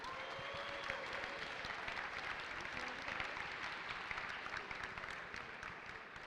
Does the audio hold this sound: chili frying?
no